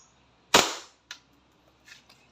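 A WE Hi-Capa T-Rex airsoft pistol fires a single sharp, loud crack during a chronograph test, followed by a quick lighter click and faint handling noise.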